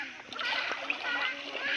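Splashing water as children jump into the sea, with bright churning spray and small bursts, close by and continuous, with voices faintly mixed in.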